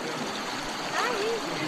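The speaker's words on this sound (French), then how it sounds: "Traverser une rivière pieds nus à 2 h du matin." A river's water rushes and burbles steadily while someone crosses it barefoot at 2 a.m. during the Diagonale des Fous trail race on Réunion, a close, broad wash of flowing water with a brief faint voice-like sound over it.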